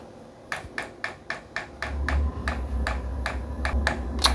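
A diesel parking heater's replacement low-noise fuel pump gives a steady, regular mechanical ticking, about three clicks per second, with a low motor hum joining partway through and continuing beneath the ticks.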